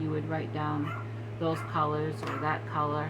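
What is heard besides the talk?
Maltese dog barking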